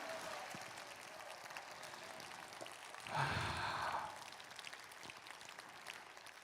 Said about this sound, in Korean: 마에스트라 박민혁 교수님께 다시 한번 큰 박수 부탁드립니다.